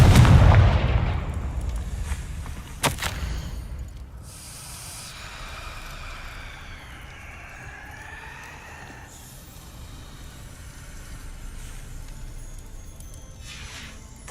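A Confringo fire spell from Hogwarts Legacy bursts with a loud, booming explosion at the start, then fades into a hissing, crackling tail with fainter magical whooshes and tones.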